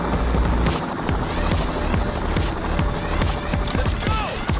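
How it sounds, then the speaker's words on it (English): A helicopter arrives in the video game Payday The Heist during the Diamond Heist, its rotor drone continuous and loud beneath rapid thudding footsteps and impacts. "Chopper."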